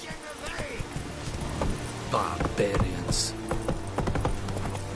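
Horse hooves clip-clop steadily along in The Witcher 3 video game, a continuous trotting rhythm heard up close beneath in-game voices and dialogue.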